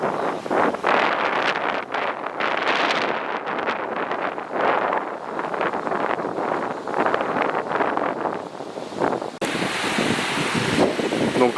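Fast-flowing water of the Bonne river rushes steadily over a quick, chute-like stretch, a broad continuous wash heard up close with gusty, blustery texture throughout.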